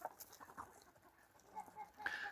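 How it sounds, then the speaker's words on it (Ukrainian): Chickens feeding in a backyard give off quiet, scattered clucks and chirps at a moderate distance, with a brighter cluster of calls near the end. "кури тут їдять на цій стороні, і кури їдять у мене ще на іншій стороні"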